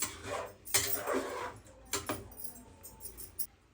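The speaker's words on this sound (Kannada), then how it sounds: "ಚೆನ್ನಾಗಿ ಮಿಕ್ಸ್ ಮಾಡ್ಕೋಬೇಕು" A metal spoon scrapes and clanks against a pot while sprouted gram curry is mixed into oil and masala, with several sharp clatters early on and softer stirring knocks afterward, close and fairly loud with no talking.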